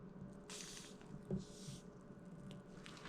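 Piped buttercream squishes out of a piping bag onto a hydrangea cake, soft wet bursts of air bubbles popping close and quiet, one sharper pop near the middle.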